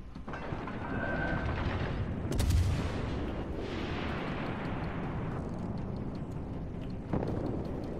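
Warship guns firing in the naval combat game World of Warships Legends, with heavy booming salvos and explosions over a constant rumble of sea and engines, a loud blast burst early on and another thump near the end.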